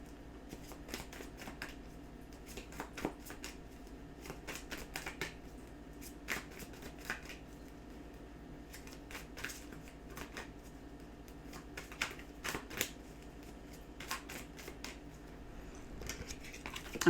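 Cards being shuffled in soft, irregular riffling bursts that repeat throughout, close and fairly quiet against a hushed indoor background with no talking.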